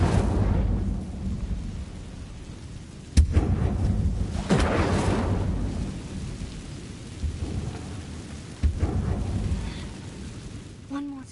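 The Incendio fire spell cast in the video game Hogwarts Legacy, sharp blasts followed by a rolling, crackling roar amid rumbling ambient game sound, with some speech in the mix.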